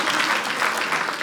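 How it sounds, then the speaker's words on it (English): A comedy show audience breaks into applause, a dense steady wash of clapping from a large crowd that holds loud and even for the whole moment. "Applaud if you're married, if you don't mind."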